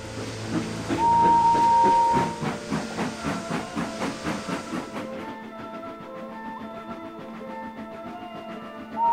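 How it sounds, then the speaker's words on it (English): A steam engine hisses and chuffs in steady rhythmic puffs, with a clear whistle sounding early before the puffing carries on more quietly. "And with that, Henry puffed grumpily out of the sheds."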